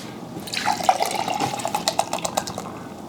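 Red ale from a home-brew session in a garage pours into a glass, a steady liquid splash that rises in pitch as the glass fills and bubbles throughout, with no voices.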